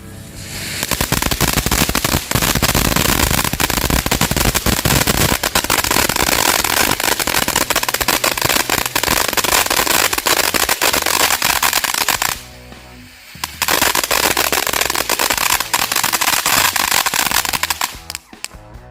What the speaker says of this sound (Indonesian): Jadi ini mercon air mancur jet guys.